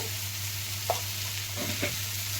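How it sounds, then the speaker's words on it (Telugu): Onions frying in a pan with salt and turmeric for bitter gourd tamarind curry, a steady low sizzle with a few soft stirring scrapes, close and moderately quiet, no talk. "ఒక్కసారి ఇక ఉల్లిపాయలు వేస్తే సరిపోద్దండి. రుచికి సరిపడా సాల్ట్, కొంచెం పసుపు,"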